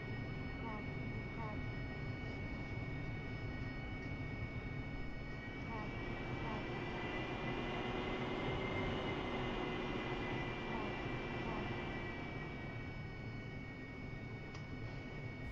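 AV-8B Harrier jet engine running up to about 60 percent in the DCS flight simulator, a steady loud whine and roar that swells slightly midway, with a voice speaking over it.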